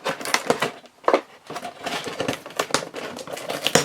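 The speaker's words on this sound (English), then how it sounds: "Let's get rid of the tape here." Packing tape being peeled and torn off a cardboard toy box holding a Jazwares Pokémon Typhlosion action figure, heard as a close series of sharp crackling rips and crinkles in uneven bursts with brief pauses.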